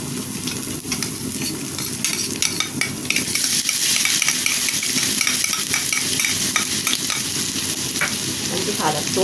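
Garlic sizzles in hot ghee with meat, a dense, bright crackle rising as a spoon stirs and scrapes through the pan, steady and close with no voices.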